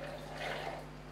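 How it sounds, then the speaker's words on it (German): Hot espresso poured over cocoa powder, a short continuous liquid splash with a soft watery trickle, close by. "Und gießen das Ganze mit unseren Espressi auf."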